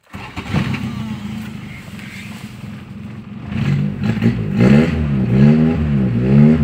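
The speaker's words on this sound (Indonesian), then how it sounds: "Mobilnya nyaman ya ini Civic Wonder kita coba nyalakan" A Honda Civic Wonder car engine cranks and catches, then settles into a close, loud idle with a few rising revs, with no one talking over it.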